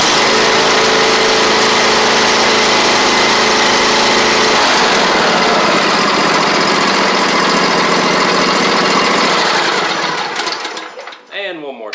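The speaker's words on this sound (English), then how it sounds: "I'm going to show you that it is cranking like it's supposed to now" A Snapper lawn mower engine with a newly replaced starter solenoid cranks and runs with a loud, steady, buzzing whine close by for about nine seconds, then cuts out and winds down with a few sputters and clunks.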